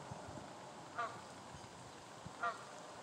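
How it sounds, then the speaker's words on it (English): Geese with goslings give two short, faint honks about a second and a half apart, heard alone over a quiet outdoor hiss. "We got goose babies"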